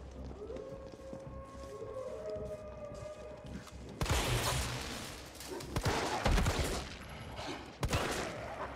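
Gunfire in Resident Evil 3 Remake, a burst of loud noisy shots starting midway and continuing in rough clusters after a quieter stretch of game ambience.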